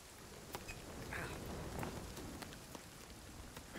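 Steady rainfall in the survival video game Nightingale, a dense, even hiss of drops with a few brief brighter patters, fairly quiet and with no voices over it.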